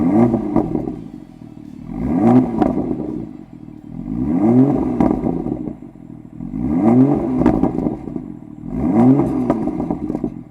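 A BMW M2 engine, already warm, revs four or five times in regular cycles, each rise and fall near and loud, with crackling pops from the exhaust.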